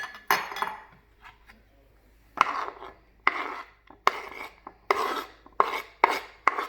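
Spam recipe ingredients dumped into a bowl and stirred, giving close irregular clinks, scrapes and soft thumps of a utensil against the bowl in uneven bursts, without talk.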